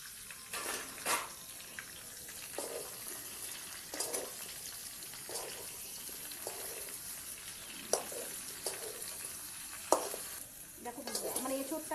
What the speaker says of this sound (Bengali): এঁচোড়টা হালকা করে একটু ভেজে নেব। চিংড়ি মাছের তেল ছিল ওর মধ্যেই ভেজে নিচ্ছি।